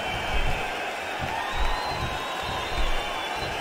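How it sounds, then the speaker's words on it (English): Crowd cheering in the WWE SVR 2011 wrestling video game, a dense steady roar of arena noise with faint swells every second or so, continuous and moderately loud. "Would you listen to this crowd show their appreciation for these amazing competitors?"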